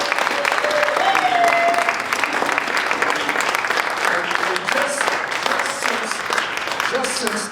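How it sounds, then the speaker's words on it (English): A civil rights restoration event audience bursts into sustained applause, dense and steady clapping filling the room for several seconds, with faint voices mixed in underneath. "Give Ray Dean a big round of applause for carrying the torch."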